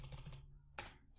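Typing on a computer keyboard with Cherry key switches: a quick run of close, clicky keystrokes, a pause, then one sharper key strike, with no voices.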